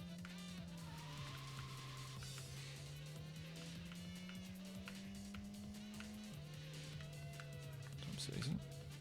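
Tires squeal in a handbrake drift in a racing video game, a steady engine drone with a long skid tone running under talk throughout, with a brief louder burst near the end.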